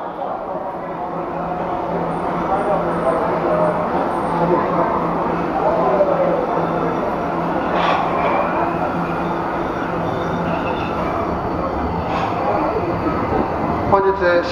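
A Tokyo Metro Ginza Line 1000 series train rumbles steadily into Aoyama-itchome station, with a continuous loud roar, brief squeals, and announcements or voices over the top.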